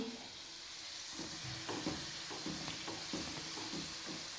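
Gulab jamun frying slowly in oil over a very low gas flame, a soft, continuous hissing sizzle with faint bubbling, steady and quiet throughout.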